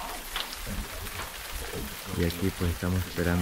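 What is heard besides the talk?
morning rain at a mountain camp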